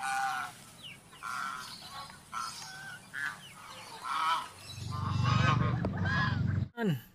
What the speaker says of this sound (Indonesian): Wow, ini angsa teman-teman.